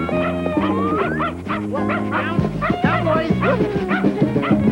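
Dogs in a 1988 dog food television commercial yipping, barking and whimpering in quick bursts, loud and close, layered over music.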